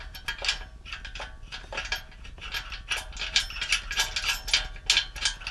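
Ratchet wrench clicking in quick bursts while a nut is tightened onto a bolt, fitted with a washer and lock washer, during a Havoc Offroad Jackhammer front bumper install; the close, steady clicks repeat throughout.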